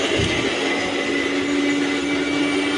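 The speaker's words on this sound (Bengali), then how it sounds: "শাশুড়ি আমাকে আদাটা বেটে দিল মিক্সিতে তাড়াতাড়ি করে আদাটাও বেটে দিল" Kitchen mixer grinder grinding ginger, a steady loud whirring motor drone held without a break, with no voices over it.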